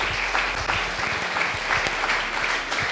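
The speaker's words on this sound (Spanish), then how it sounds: "¿Cuántos aplauden su nombre?" A church congregation breaks into steady, dense applause that fills the whole moment, close and continuous with no speech over it.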